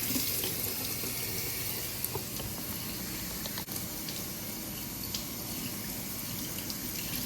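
Tap water runs steadily and loudly over a K&N engine air filter from a 2018 Silverado 5.3 as it is rinsed clean in a sink, a constant close splashing rush with no one talking.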